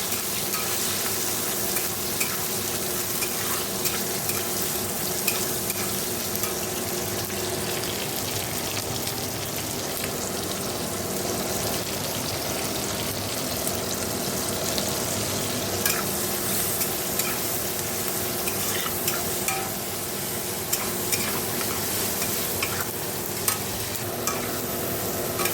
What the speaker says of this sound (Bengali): দেখো মাছের ঝোলটা একটু জল দিয়ে দিয়েছি, নুন হলুদ দিয়ে দিয়েছি, ফুটে গেলেই মাছগুলো দেবো।